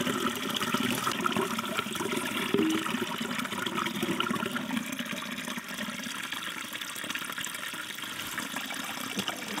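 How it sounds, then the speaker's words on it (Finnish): A small stream of water trickles steadily in the wilderness, a natural spout along a multi-day trek; the bright splashing and gurgling stays close and continuous throughout, with no voices. "ihan pientä veden lotinaa"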